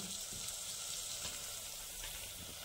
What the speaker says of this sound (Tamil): இப்போ இது நல்லா வதங்கிச்சா, இது கூட வந்து புதினாவும் கொத்தமல்லி ஒரு கைப்பிடி.